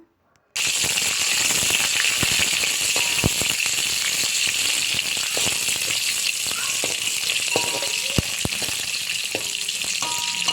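Onions and sliced green chilies fry in oil with a constant close sizzle, broken by occasional sharp clicks and scrapes of stirring, and no talking.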